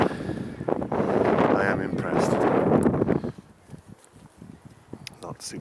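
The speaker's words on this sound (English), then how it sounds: "Apart from the bloody wind in this, I always seem to be windy when I'm filming." Wind buffets the microphone on a hilltop in Amman, a loud rumbling roar for the first few seconds that then drops to a quieter, unsettled hiss.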